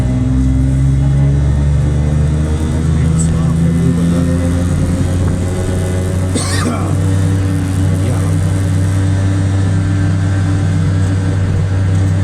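A Piaggio Ape three-wheeler's small engine drones loudly and steadily from close by as the vehicle is driven, a constant low rumble with little change in pitch throughout.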